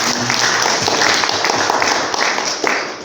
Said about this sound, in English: Another round of applause, then, please.